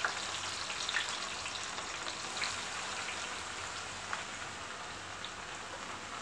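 Garlic and ginger fry in hot oil for a Kerala-style lemon pickle, giving a steady, fine, rain-like sizzle with scattered pops at a moderate, even level and no voices.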